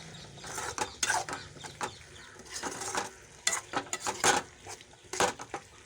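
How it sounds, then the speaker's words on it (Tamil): A spoon stirs grated coconut into beetroot fry in a pan, making clattering scrapes and knocks against the metal in uneven bursts over a faint sizzle, with no talking. "தேங்காய் துருவல் போட்டு எல்லா இடமும் கிண்டி விட்டுடலாம்."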